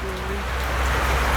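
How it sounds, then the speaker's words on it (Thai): Steady rain falls outdoors, a constant close hiss of drops on surfaces with no breaks, and a faint voice briefly audible beneath it. "ผ้าฝนตกเนาะ"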